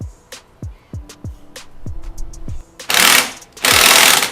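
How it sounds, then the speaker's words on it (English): During an engine rebuild, a bolt is fastened with a ratchet, a series of close metallic clicks and knocks followed by two bursts of loud whirring tool noise. "I'm just going to go ahead and put the bolt on."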